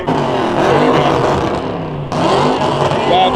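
A Dodge Hellcat wide-body car engine revs loudly close by in two sustained surges, with a brief drop just past the midpoint before the roar picks up again.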